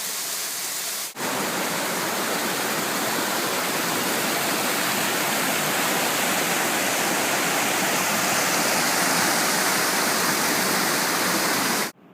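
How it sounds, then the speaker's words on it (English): A Costa Rican waterfall along a forest trail roars as a dense, steady rush of falling water, loud and close, cutting in after a brief quiet start and stopping abruptly at the end. "An amazing waterfall."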